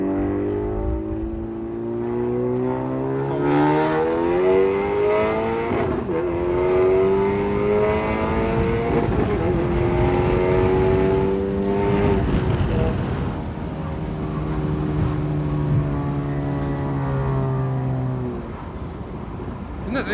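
A Honda Civic Type R tuned to Stage 2 with over 400 hp accelerates hard through several gears. The engine note climbs and drops repeatedly, loud and close, with road and wind roar underneath.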